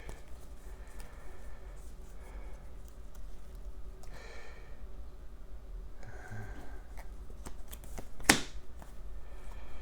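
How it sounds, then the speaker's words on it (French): Two Marvel Legendary cards drawn from a deck at a tabletop game: quiet papery slides and flicks over low background hum, with one sharp snap near the end. "Pioche 2 cartes"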